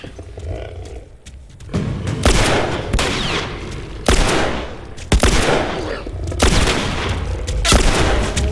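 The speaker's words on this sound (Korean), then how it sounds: "빌 네가 쏴야지 네가 쏴야지 난 총알 총알이 없어 다섯 발" Loud gunshots in the video game The Last of Us, several sharp blasts spaced a second or so apart over a busy, noisy game background.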